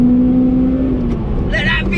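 A Honda car engine with VTEC revs hard, its loud, steady drone climbing toward a high-pitched wail, heard close from inside the car.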